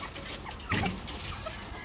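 Gamefowl hens cluck nearby, one short louder cluck standing out over a steady background noise on the farm.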